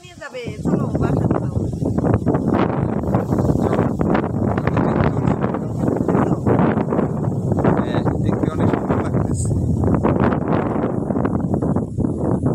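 Strong gusts of wind outdoors just before rain, a loud continuous roar buffeting the microphone in surges for the whole stretch.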